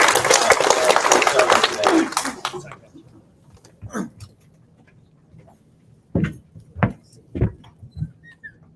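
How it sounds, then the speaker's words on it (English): Applause from the audience at a Mother's Day celebration at City Hall, a dense burst of clapping for about two seconds that fades into a quiet room, followed by a few isolated thumps and handling noises. "Can we give a round of applause to Maya today?"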